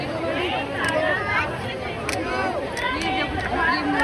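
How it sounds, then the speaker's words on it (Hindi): A large crowd of pilgrims murmurs and chatters around a temple at Vrindavan, forming a dense babble of many voices near and far, with one voice talking closer over the hubbub. "आप देख सकते हो कितनी भीड़ है"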